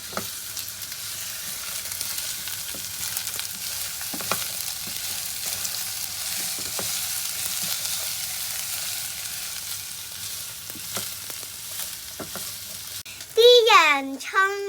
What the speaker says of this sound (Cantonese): 油熱咗呀！ 我哋而家可以落洋葱啦。